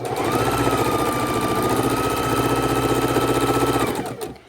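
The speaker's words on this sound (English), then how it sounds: "we are starting to sew our pieces together" A sewing machine joins quilt pieces for a border in one long continuous run, a loud steady motor hum with a rapid rhythmic needle chatter that winds down and stops near the end.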